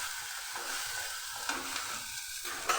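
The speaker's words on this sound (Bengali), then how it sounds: "একটু ভালো করে আরেকটু নেড়ে নেব" Spice paste with cumin and coriander powder sizzles and fries in a pan while being stirred for a cauliflower korma, a steady hiss with occasional scraping stirs, close and alone.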